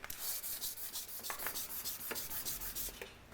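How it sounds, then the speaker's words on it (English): Dry, steady rubbing of 1200 grit sandpaper across a hand-forged Damascus steel chef's knife blade, in repeated back-and-forth strokes, close and fairly quiet, with no talking. "go over the blade with 1200 grit sandpaper"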